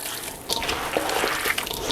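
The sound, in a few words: liquid from kneaded cabbage for sauerkraut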